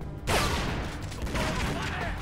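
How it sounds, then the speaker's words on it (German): Enemy gunfire in the video game Tomb Raider: Legend, a sudden burst of rapid shots cutting in and continuing as a dense, loud clatter through the rest of the moment, with game noise underneath. "Ich weiß nicht, warum die schießen, aber die können mich nicht treffen."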